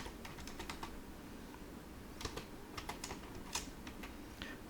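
A computer keyboard is tapped in short, uneven runs of crisp keystrokes while a command is entered on a Cisco switch CLI, close and fairly quiet over a low room hum.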